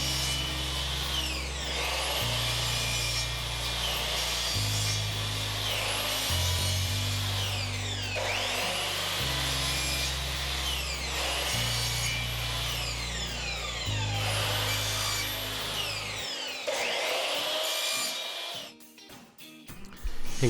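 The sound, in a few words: sawing miter cuts in wood trim for curtain cornice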